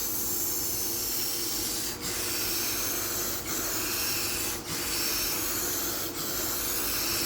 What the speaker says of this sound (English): I like the hammered paint texture, but I do not like the way these triggers are on these paint cans